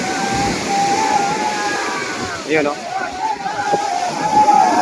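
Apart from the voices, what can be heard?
big sea waves hitting a fishing boat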